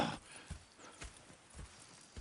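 Horses' hooves clip-clop in a steady, evenly spaced rhythm in the video game Red Dead Redemption 2, faint and moderately distant, with no talk over them.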